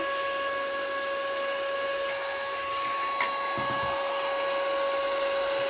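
A Usams 7800 mAh 6000Pa mini car vacuum cleaner runs steadily at maximum speed with a high, even whine and airy hiss, unchanging throughout with no voices.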